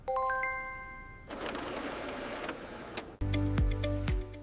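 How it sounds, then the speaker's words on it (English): An HP inkjet printer running a test page gives a series of electronic chimes, then a steady mechanical whir and shuffle of paper feeding, and ends with louder, closer clunks and motor hum, with no voices. "print a test page to confirm everything is working perfectly"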